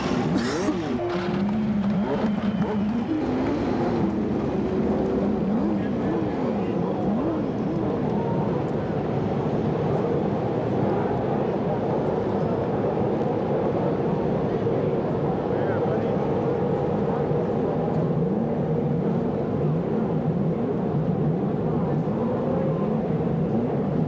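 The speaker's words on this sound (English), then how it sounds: "Gentlemen, start your engines!" IndyCar race car engines firing up at the 1994 Molson Indy Vancouver, a dense roar of many engines idling and revving together over loud crowd and announcer noise, steady and continuous throughout.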